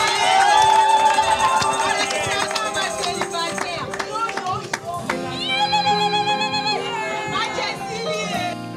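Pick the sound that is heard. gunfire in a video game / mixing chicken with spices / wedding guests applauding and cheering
wedding guests applauding and cheering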